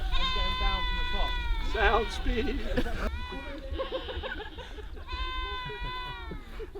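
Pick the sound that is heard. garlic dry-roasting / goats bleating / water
goats bleating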